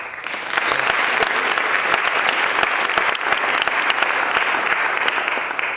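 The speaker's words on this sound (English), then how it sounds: "if I could have a round of applause for the U.S. history teachers real quick" A room of people gives a sustained round of applause for U.S. history teachers at a school gathering, dense steady clapping starting after a brief quiet moment and continuing evenly throughout.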